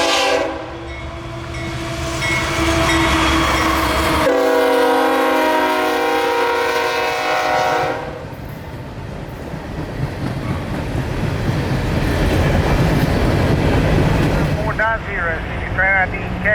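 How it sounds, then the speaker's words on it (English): A CSX freight train hauled by two AC4400CW diesel locomotives rumbles past close by, its loud horn blaring for several seconds before the heavy engine roar and rolling wheels continue. "This train was also being hauled by two CSX AC 4400 CWs"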